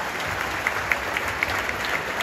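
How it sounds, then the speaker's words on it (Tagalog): An audience at an event clapping for the hosts, a fairly modest but steady patter of hands with a few sharper individual claps standing out, no speech. "Pwede ba palakpakan natin sila?"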